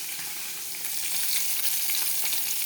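Fish heads fry in a pan of oil with a dense, even, crackling hiss that holds steady throughout, close and moderately loud with no voices.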